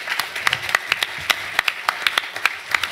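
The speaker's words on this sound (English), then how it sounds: "That is really warm applause." Sparse clapping from a small audience, with distinct individual claps in an uneven rhythm rather than a full wash, fairly close and moderate in level.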